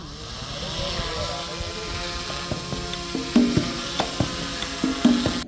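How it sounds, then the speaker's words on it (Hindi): A drone flies outdoors in the Kacha riverine area of Sindh, a steady motor whine with clicking and ratcheting accents near the end, its level fairly even and close. "खाना खाने के बाद हम लोगों ने यहाँ उड़ाया ड्रोन।"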